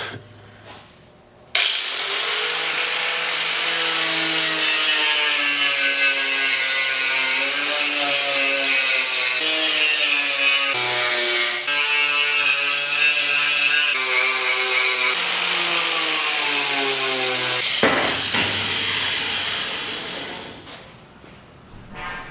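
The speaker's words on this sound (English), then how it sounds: "removing the Bondo here to see what's the situation under there" A power tool grinds Bondo off the front valance of a 1970 Triumph TR6, a loud, steady whining buzz with shifting pitch that starts abruptly, runs for about sixteen seconds and then winds down, with no talk.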